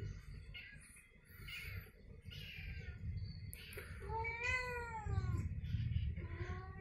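A frightened cat meows repeatedly near a monitor lizard by a drainage ditch, its rising and falling cries moderately close over a steady low background rumble.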